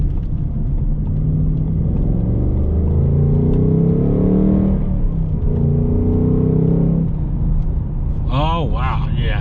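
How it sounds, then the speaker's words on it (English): A 2021 Ford Mustang Mach 1 V8 with a six-speed manual, its engine droning and rising in pitch with repeated blips from the automatic rev matching on shifts, heard from inside the cabin while someone talks over it. "Oh, this has got automatic rev matching."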